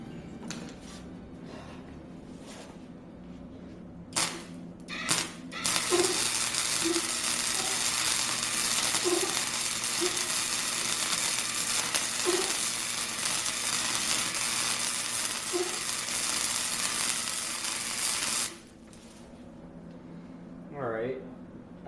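A Hobart Auto Arc 100 arc welder lays a bead on metal with a steady, loud crackling hiss that runs for about twelve seconds and then stops abruptly. Scattered talk comes before and after the weld.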